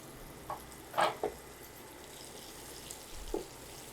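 Halved boiled eggs fry with onions and chilli powder in a pan: a faint, low sizzle under a few short spatula taps and clinks.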